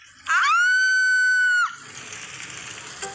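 A woman lets out one long, piercing, high-pitched scream lasting over a second, loud and close, followed by a steady hiss like rain.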